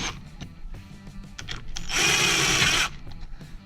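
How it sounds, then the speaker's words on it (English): An impact driver runs bolts into the engine of a 2004 Yamaha YZ250F dirt bike: one loud, close, buzzing hammering burst lasting about a second, preceded by quieter clatter over a faint musical background. "I'm gonna use the impact to get them most of the way there, then finish it by hand."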